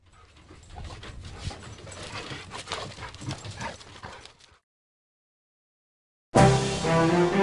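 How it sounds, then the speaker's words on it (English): Doberman dog panting and whimpering in two bursts, a steady breathy stretch followed by silence and then a louder, closer burst of sound; no talking. "Strength and aggression make the Doberman an excellent guard dog."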